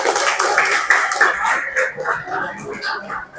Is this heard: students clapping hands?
yes